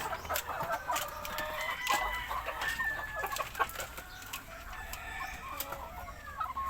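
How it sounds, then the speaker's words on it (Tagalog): Several chickens cluck and chatter nearby in overlapping, irregular calls, with a rooster-like crow drawn out in the middle; no talking. "Ito yung mga manok ko guys."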